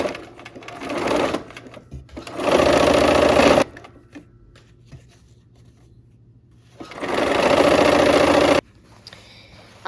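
A sewing machine stitches a seam in two loud, steady runs of fast mechanical whirring, separated by a quieter pause with faint handling noise.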